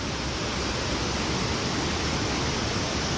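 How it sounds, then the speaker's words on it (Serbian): Water rushes at a waterfall park in Dalat, Vietnam, a loud, steady, unbroken roar with no other sounds. "Šum vode je prisutan."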